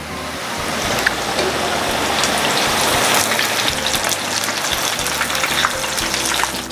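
Tofu frying in hot oil, heard as a loud, steady sizzle and crackle close by that carries on unbroken from start to finish.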